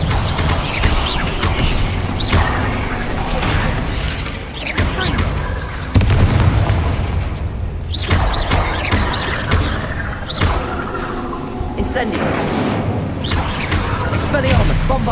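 Repeated spell blasts in Hogwarts Legacy, with Bombarda explosions among them, make loud booming thuds and bursts throughout a dense, chaotic fight, mixed with other spell effects and voices.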